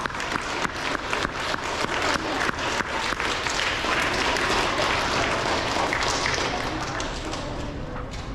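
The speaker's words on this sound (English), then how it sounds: "Let's give this first part of the alphabet a round of applause" Sustained applause from an audience at an elementary school awards ceremony, many hands clapping in a steady, full wash that holds for the whole stretch without talk.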